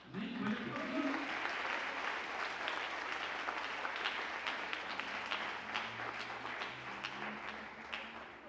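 A church congregation applauds at a Christian conference, a dense, sustained wash of clapping filling the room, with some voices and cheers mixed in underneath.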